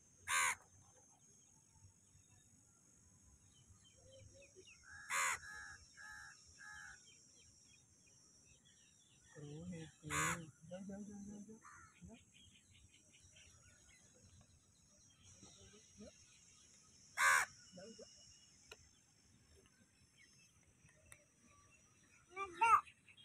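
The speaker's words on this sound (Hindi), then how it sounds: "पहले एक या दो कौवे आए, उसके बाद ढेर सारे कौवे वहाँ पे आ गए" Crows caw in Nehru Park, Delhi, in several loud separate bursts spread out over about twenty seconds. A faint insect drone runs underneath, and people talk quietly between the calls.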